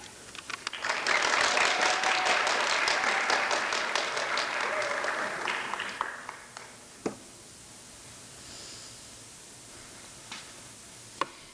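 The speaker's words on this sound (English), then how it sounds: "So please give a welcome round of applause" An audience claps for a performer at a creative writing reading event, a dense round of applause that swells for about five seconds, then thins out and fades, leaving a few scattered claps and faint rustling.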